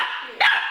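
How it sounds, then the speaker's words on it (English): A young, rowdy pet dog gives a single sharp, loud bark at close range inside a home, set against a low steady background hum. "He does bark at her."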